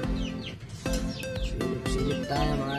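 Pet budgerigars, including green opaline and bar blue birds, chirp and warble continuously in an aviary, with overlapping bright tweets and trills at close range, fairly loud and steady throughout.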